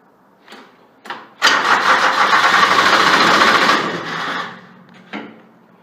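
A Grasshopper 721D mower engine, just fitted with a repaired side-post battery bolt, gives a couple of short cranks, then catches and roars for a few seconds before winding down, with one last brief crank after.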